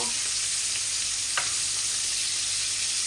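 Rui fish pieces and radish cooking in a pan for a curry, giving a steady, even hiss of frying with one brief soft clink partway through and no talk.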